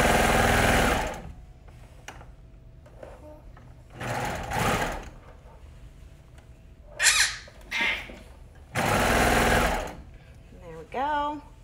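A sewing machine stitches the shoulder seam of a shirt in three loud bursts of steady running, separated by quieter pauses with brief handling noises and a short squeaky sound near the end.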